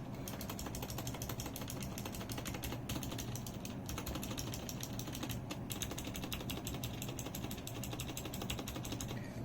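Spacebar and keys on a Redragon K552 hot-swap mechanical keyboard pressed repeatedly, giving a steady run of close, clacky taps with a few slightly heavier strokes.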